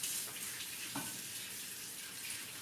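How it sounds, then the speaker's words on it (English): Tap water running into a kitchen sink while hands are washed, a steady hissing splash at low level with one brief splash or knock partway through; no talking. "I'm gonna wash my hands real quick"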